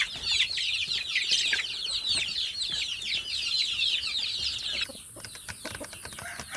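Free-range village chickens kept for egg laying cluck and squawk loudly and continuously close by, several birds overlapping, with a brief quieter stretch near the end.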